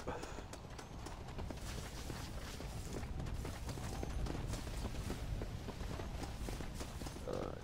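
Horse hooves clip-clop at a steady trot in the video game Red Dead Redemption: Undead Nightmare, a continuous close rhythm beneath dense background game noise.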